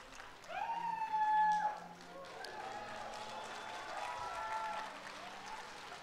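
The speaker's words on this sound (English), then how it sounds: "please give us a big round of applause for two new members" A crowd at a Global Atomy promotion ceremony in Atlanta applauds two new members, fairly faint clapping with cheers and whoops rising over it, then quieter cheering carrying on.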